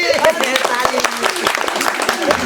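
Crowd applause at a Maithili comedy rally, steady dense clapping filling the short stretch with voices mixed in.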